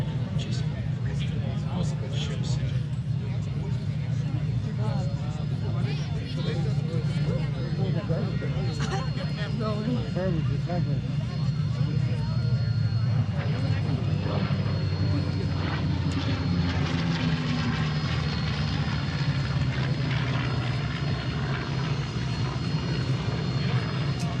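Corsair propeller warplane flying past at an airshow, a steady engine drone that stays loud throughout and under the commentary of a public-address announcer.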